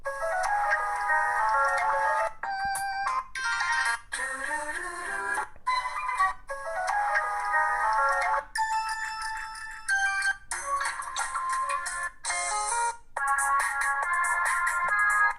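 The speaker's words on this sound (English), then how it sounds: "And as far as the ringtone, let me change that up." A ZTE Blaze ZMAX smartphone plays a series of short melodic ringtone previews one after another, bright electronic tones cut off and switched every second or two, with no talk over them.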